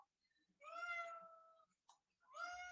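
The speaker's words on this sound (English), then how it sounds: "You can probably hear my kitty in the background." A barn cat gives a long, drawn-out meow, a short chirp, then starts another meow; quiet and somewhat distant.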